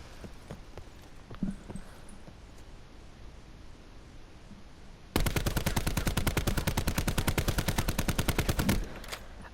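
A Rampart 17 rifle firing in a video game, heard as a long, fast, even burst of loud shots that runs for several seconds. Quieter game sounds come before and after it, and no one speaks.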